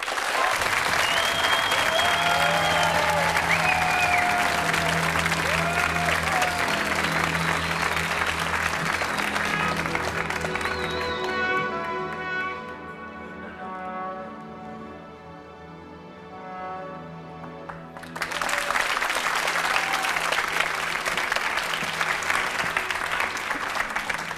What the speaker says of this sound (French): Je vous demande d'applaudir très chaleureusement Erika et Anaïs.